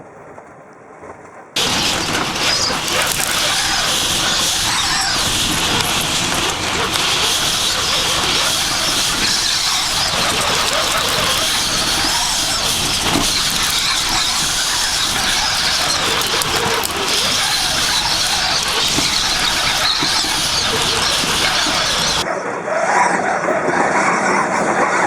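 A strong wind and dust storm roars across an RV campsite in Borrego Springs, California, a loud continuous broadband rush of gusting air battering the camper that starts abruptly and holds for over twenty seconds before easing.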